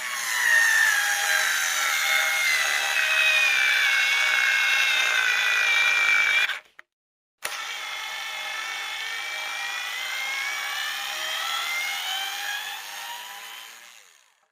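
A high-pitched power drill whines steadily and close, drilling into crystal, stops briefly, then starts again and keeps grinding before winding down.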